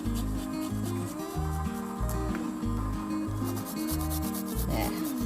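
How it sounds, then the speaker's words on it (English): Food is grated on a hand grater for a poke dish, giving a steady run of rhythmic back-and-forth scraping strokes close to the microphone over background music. "see how it just grates really nicely"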